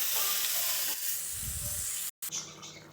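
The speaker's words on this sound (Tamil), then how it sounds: "இந்த மசாலா போட்டு நல்லா ஃப்ரை பண்ணிக்கலாம்." Masala and tomato paste fry in a pan for egg kulambu, giving a soft, steady sizzle and hiss with faint stirring. The sound cuts out briefly near the end.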